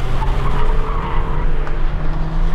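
Rented Audi A3 turbo takes a curve with its tires squealing and skidding over a steady engine roar, loud and close, with no one talking.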